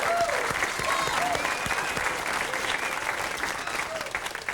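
A studio audience at Howie Mandel's television talk show breaks into a warm round of applause, steady clapping that fills the room and slowly tapers over a few seconds.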